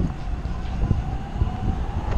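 A continuous low rumble and rattle of a passing train, steady and fairly close, with no voices.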